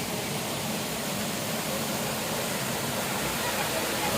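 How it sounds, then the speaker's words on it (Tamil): Paalapattu waterfall pours down in several tiers, producing a steady, dense broadband roar that stays constant and loud throughout with no other sounds standing out. "அடுக்கடுக்காக விழுதுங்க அருவி"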